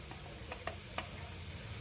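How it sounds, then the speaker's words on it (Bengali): Steady, close sizzling of chillies frying in hot oil for poha, with a few light clicks of stirring. "এখন এটাকে হালকা করে ভাজবো, কালারটা একটু চেঞ্জ হবে"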